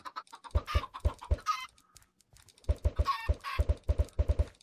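Repeated short clucks from chickens in Minecraft come in quick bursts with brief pauses between them, crisp and close, with a clipped, synthetic quality.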